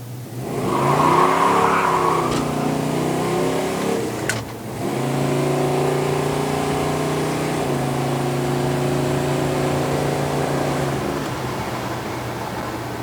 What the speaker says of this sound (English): we're going to run this 68 GTX through some gears for you